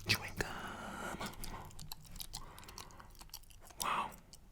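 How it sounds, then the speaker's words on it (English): Gum chewed close to the microphone makes soft wet smacks and clicks, mixed with quiet whispering throughout and a louder burst of mouth noise near the end. "Chewing gum."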